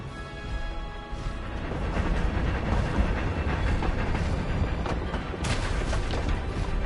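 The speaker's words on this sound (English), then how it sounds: "There's the Hogwarts Express. Must be returning from an unscheduled run." The Hogwarts Express train rumbles past in Hogwarts Legacy, a dense continuous low roar that swells and holds steady for several seconds, with brief clanks near the end.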